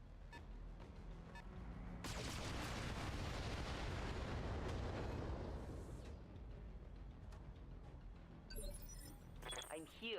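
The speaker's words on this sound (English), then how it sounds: "They're shooting at me." Enemy gunfire and explosions in the video game BattleTech come as a dense, sustained roar of blasts in the middle stretch, with sharper crackles and impacts around it and people talking over the action.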